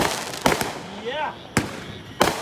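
Backyard July 4th fireworks in Fort Myers, Florida: three sharp, loud bangs spaced about a second apart, with a whistling rise between the first two and crackle under voices talking nearby.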